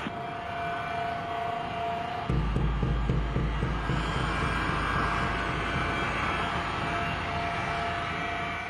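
US Airways Flight 1549, call sign Cactus 1549, taxis as an airliner. A steady, loud engine roar and hum fills the scene and deepens and thickens partway through, then holds constant.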